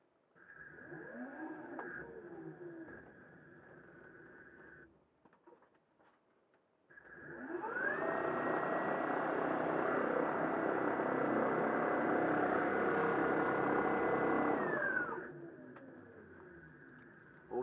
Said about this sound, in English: experimenting with the throttle a little bit and ready to taxi